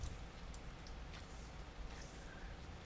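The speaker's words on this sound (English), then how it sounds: "The rain keeps on falling like it's crying." Steady rain falls as a soft, continuous hiss with scattered faint drops, quiet and unbroken throughout with no voices, set in the Kira Kira visual novel game.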